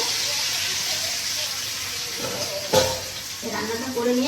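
Food cooking on a home stove gives a steady broad sizzle and hiss that runs throughout, close and fairly loud, with a brief knock and some faint stirring sounds near the end.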